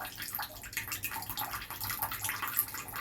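Running shower water sprays steadily over a green cheek conure, a constant bright hiss of falling water that carries through the whole stretch with no talk.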